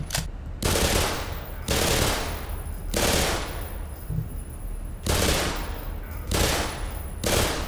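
Sustained automatic gunfire from the video game Black Mesa comes in loud bursts of roughly a second, with short pauses between them, about five volleys in all.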